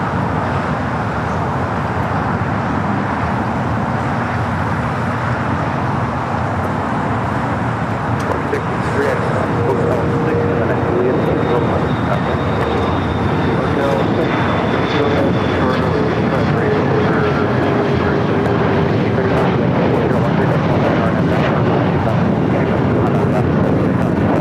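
A Boeing 777-300ER bound for London Heathrow takes off from LAX, a steady loud jet roar with a slowly shifting whine that holds throughout amid airport ambience.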